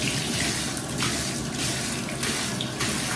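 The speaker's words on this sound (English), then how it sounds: "now I'm going to fill it with just straight water" Room-temperature water gushes from a tap into a bathtub being filled for rinsing a quilt, a loud, steady rushing pour with no talk.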